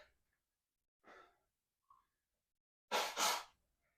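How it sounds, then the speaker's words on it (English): A few soft breaths and sniffs, then two forceful, close nasal blasts in quick succession, like someone blowing their nose into a tissue. "I gotta blow my nose real fast"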